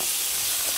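Onions sizzling in olive oil in a pan give a steady, close hiss with no voices over it.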